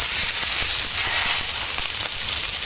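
Salmon frying in a pan with butter and garlic gives a dense, even, bright sizzle, close and continuous, with faint crackles throughout and no voices.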